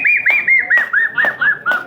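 A performer in a Tamil stage-drama comedy imitates a female koel with his voice: about eight whistled, arching notes in a steady, even rhythm, close and loud with no other sound.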